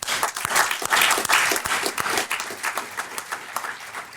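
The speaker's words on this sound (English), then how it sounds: "Let's give a round of applause." A crowd at a startup demo day event claps in sustained, dense applause, loud and fairly even before tapering slightly toward the end.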